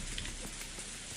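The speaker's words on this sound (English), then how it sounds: "In the middle of the seemingly endless rain," Rain falls steadily in the Umineko Episode 1 game, a brief, even patter of drops striking a surface at moderate level, with no voices.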